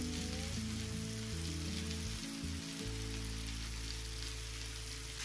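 Cumin powder and spices frying in a pan for sambar give a soft, steady sizzle, faint and continuous beneath a low hum, with no talking.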